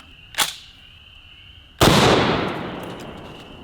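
A single 30-06 shot from an M1 Garand rifle fired at a watermelon. A small pop is followed by a loud, sharp blast that rings out with a long decaying tail.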